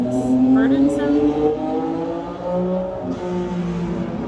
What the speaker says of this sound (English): I'm just letting the motorcycle pass.